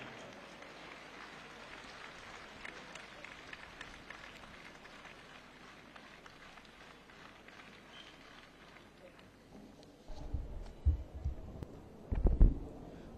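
A short burst of applause from the crowd at the opening ceremony of the 72nd All India Police Wrestling Cluster competition, greeting the chief guest. It follows a long stretch of faint hall ambience and talk, then rises in uneven bursts near the end.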